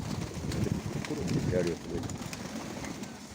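Mykolaiv pigeons coo softly in a low, rounded murmur, close by, mixed with background noise and people talking.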